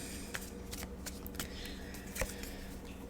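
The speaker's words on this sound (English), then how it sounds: "Let's do one more shuffle." Tarot cards are shuffled quietly and close up, giving a string of soft papery riffles and flicks with a couple of sharper taps, no speech.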